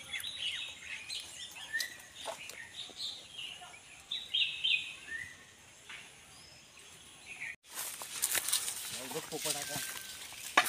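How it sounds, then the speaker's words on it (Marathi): Birds chirp and call in a coconut and areca palm plantation in Konkan, with short bright calls scattered over a steady insect hum, and a brief burst of louder chirping near the end. "पक्ष्यांचे आवाज येतात इकडे"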